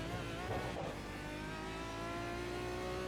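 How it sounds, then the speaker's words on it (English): An Aston Martin V12 race car in a GT Challenge Series racing game at the Nordschleife roars steadily at high revs with a constant, close, loud engine drone and no talk. "I'll let you just listen to the glorious sound of an Aston Martin V12"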